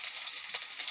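Onions going into hot oil with ground cumin give a steady, close sizzle with bright crackling, no voices.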